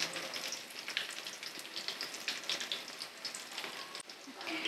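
Dahi bhallay fry in hot oil over a medium flame, a dense, continuous crackling sizzle with bright spits and pops, close and even throughout.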